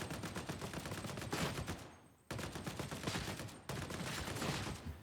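Autogun fire from the Warhammer 40K: Darktide video game rattles in sustained rapid bursts, three long strings of shots broken by short pauses, fairly distant and steady without speech.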